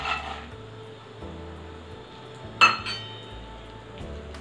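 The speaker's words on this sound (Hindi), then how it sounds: "अब इसी घी में हम डाल देंगे 1 कप काजू।" Cashews tipped into hot ghee in a pan land with a brief clinking rattle against the metal, heard close over a low background hum, with a few faint scrapes after.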